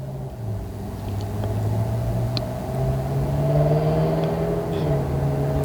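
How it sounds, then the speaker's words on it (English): A car passes with a steady engine rumble and whir that swells slightly and then eases, loud and continuous throughout with no talk. "You hear that car?"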